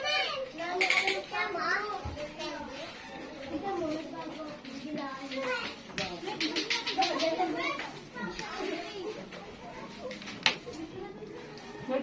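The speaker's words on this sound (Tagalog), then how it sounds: "Ingay mga bata." Noisy children play and chatter indoors at a family gathering, a constant busy mix of young voices with shouts and squeals rising over steady background chatter.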